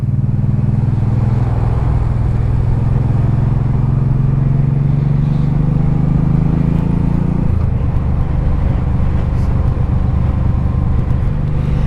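A 1984 Honda Shadow 700 VT700C V-twin motorcycle engine drones loudly and steadily during a ride, its low rumble dropping in pitch partway through as the rider downshifts, with wind noise throughout.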